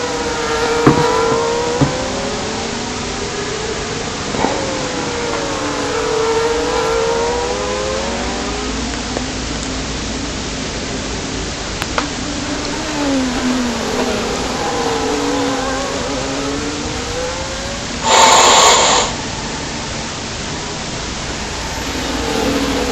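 Ferrari-engined race cars in a racing video game, their engines whining and sweeping up and down in pitch through gear changes, loud and continuous, with a short burst of harsh noise near the end.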